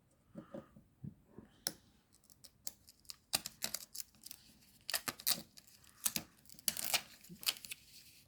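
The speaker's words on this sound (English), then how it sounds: "if you peel back the sticker" A sticker being peeled back from Transformers Kingdom Black Arachnia toy packaging, heard as a run of close, crisp crackles and plasticky clicks in irregular bursts.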